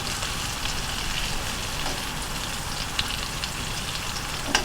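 Meatballs fry in a pan on medium heat with a steady, even crackling sizzle throughout and a few slightly louder pops, with no talking.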